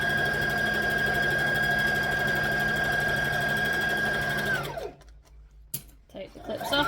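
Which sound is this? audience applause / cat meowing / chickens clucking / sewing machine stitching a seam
sewing machine stitching a seam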